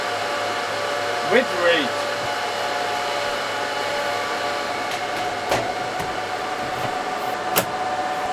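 An old Supermicro file server runs with its cooling fans roaring in a loud steady whoosh and a constant hum, close up, with a few brief clicks and a short spoken phrase over the noise.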